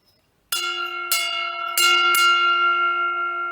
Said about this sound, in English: So I am going to ring the bell and then we decide together.